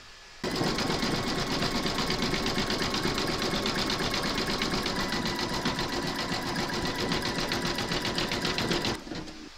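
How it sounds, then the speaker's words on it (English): An embroidery machine satin-stitches a dense zigzag around the edge of a skeleton's arm appliqué, a steady rapid needle chatter running loud and unbroken for about eight seconds before stopping abruptly. "we're going to stitch round number 5, and that's going to zigzag around the edge of the arm"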